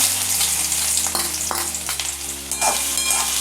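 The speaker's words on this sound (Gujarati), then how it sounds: "તેલ ગરમ થઈ ગયું છે। તો હવે તેમાં આપણે ડુંગળી એડ કરીશું।" Chopped onion hits hot oil in a pan for Manchurian, bursting into loud, close sizzling and frying with a few scraping stirs breaking through the constant crackle.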